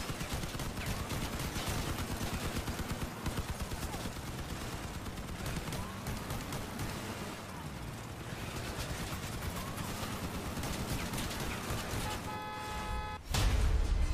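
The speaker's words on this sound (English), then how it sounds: "This shotgun's powerful" Repeated shotgun blasts in Crossout, a vehicle combat game, rapid and loud over a steady roar of engines and battle noise, with a burst of louder impacts near the end.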